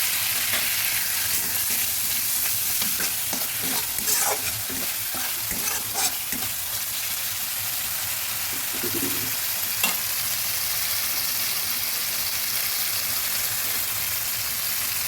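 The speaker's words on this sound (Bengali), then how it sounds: "মশলাটা ভেজে নিয়েছি এবার দিয়ে দিচ্ছি যেটা কাঁচা লঙ্কা" Spices and green chillies fry in a pan while a spatula stirs them, giving a continuous close sizzle with repeated scraping strokes early on that settle into steadier hissing, no voices.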